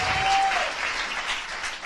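An audience applauds steadily to cheer on a contestant at a live event, a dense burst of clapping, with a brief whistle-like tone at the start.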